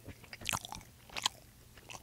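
Someone bites into and chews a corned beef sandwich close to the mic, with two sharp crunchy bites followed by softer wet chewing, no talking.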